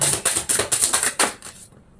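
Tarot cards are riffled and shuffled in a rapid burst of crisp papery clicks, about seven close, loud snaps in quick succession before cutting to silence.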